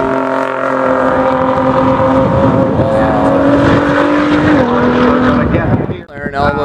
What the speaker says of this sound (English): And that is Bill Kluwbein behind the wheel of that McLaren 675 LT